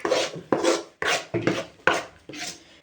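Masala for a mutton curry is stirred and sautéed in a cooking pan, making a run of about six rough scraping strokes at a quick, even rhythm, close and clear with no voices.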